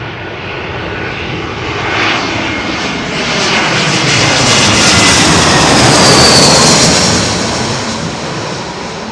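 Qatar Airways Airbus A380 landing on runway 27L at London Heathrow, a loud, broad jet roar that swells as the plane nears and passes overhead, then eases slightly, with no voices.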